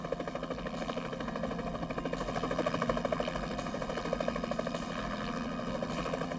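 A steady, rhythmic thumping of helicopter rotors over a continuous engine hum, from a helicopter equipped with an infrared heat-seeking system, holding at a constant moderate distance throughout.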